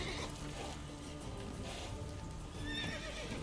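Roach, a horse in The Witcher 3 video game, neighs and whinnies amid clip-clopping hooves and game action, a steady dense mix with a sharper whinny near the end.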